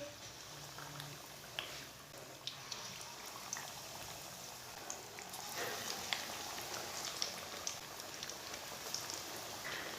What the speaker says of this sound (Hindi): अब इसे फ्राई कर लेंगे।